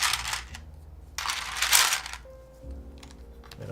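Keys clatter on a DP104 mechanical keyboard build with a full numpad, in two dense bursts of rapid clicking up close, followed by a quieter stretch with a faint hum.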